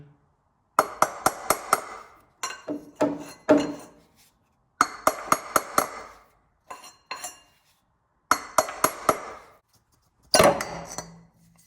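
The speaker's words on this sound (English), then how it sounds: "So let me pull all these out and get this pulley off." Bolts and a pulley are removed from a VW Golf Mk1 water pump, producing clusters of sharp metallic clinks and taps as the parts are handled and set down, close and crisp, separated by short silent pauses.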